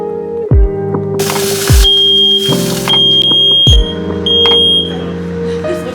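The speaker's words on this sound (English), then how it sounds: "The smoke alarm went off." A smoke alarm chirps repeatedly with sharp, high electronic beeps, interrupted by loud thuds and clatter nearby.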